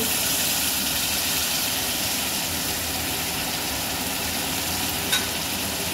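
Spices for chickpea ghugni sizzle in a hot pan, a steady, even hiss of frying that runs unbroken at moderate loudness, with a faint clink near the end.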